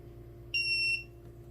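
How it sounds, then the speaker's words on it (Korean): Electric pruning shears give a single short electronic beep, about half a second long, clear and close over faint background hum, as the safety switch turns off. "그러면 띠 소리가 나옵니다."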